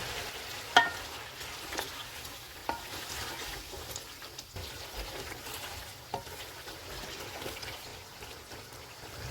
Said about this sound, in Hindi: पाँच मिनट के बाद अदरक और लहसुन का पेस्ट डालेंगे। इसको 2 मिनट तक भूनेंगे।